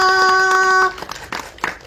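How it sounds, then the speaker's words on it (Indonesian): Applause at a press conference for the animated Warkop DKI and Panji Tengkorak films, starting after a sustained tone and coming as scattered claps, loose and moderately loud, tapering quickly. "boleh kita kasih tepuk tangan untuk Mas Rako"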